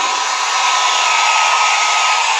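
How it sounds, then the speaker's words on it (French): A hair dryer blows steadily at close range, drying freshly applied pigment on recoloured leather; a loud, continuous whooshing drone with no talk. "c'est mieux de le faire au sèche-cheveux"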